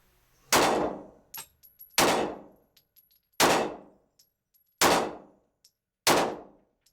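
A Glock 19 Gen 4 pistol fires five break-in rounds outdoors, each a sharp loud crack with a ringing decay, spaced about 1.4 seconds apart, with faint clinks of brass between shots.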